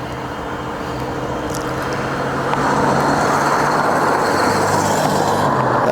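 A 1984 Mercury Capri on its first drive after sitting, the engine and road noise forming a steady loud rumble inside the car that grows slightly louder halfway through as it picks up speed, with no talking.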